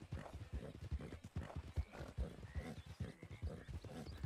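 Steady hoofbeats of a horse ridden in the RedM (Red Dead Redemption) video game clop along in an even rhythm, quiet and continuous, with a faint snort or whinny mixed in.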